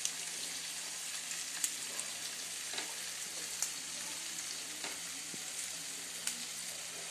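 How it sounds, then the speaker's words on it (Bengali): Ginger and green chili fry in hot oil for a vegetarian potato curry, giving a continuous soft sizzle with occasional sharp crackles and spoon clinks, close and steady, with no talking. "এইবার একটু এর সঙ্গে ভাজা ভাজা হবে আদা। আর আমি কাঁচা লঙ্কা যে দিয়েছিলাম সেই কাঁচা লঙ্কাটা আমি দিয়ে দেবো এখন।"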